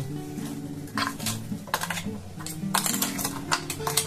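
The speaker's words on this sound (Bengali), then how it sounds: "আমি চালের গুঁড়োগুলোকে একটু একটু করে এর মধ্যে মিশিয়ে দেব" A spoon working rice flour into a kalakand mixture in a pan gives irregular clinks, taps and scrapes of metal, soft then sharper, over a low steady kitchen hum.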